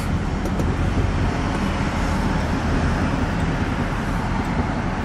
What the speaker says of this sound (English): A little traffic here.